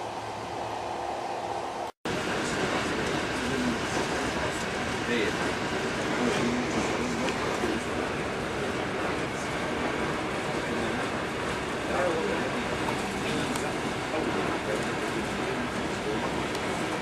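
A train running to Casablanca, a continuous loud rumble and rattle of carriages on the rails heard from on board, with a brief dropout early on and voices talking underneath.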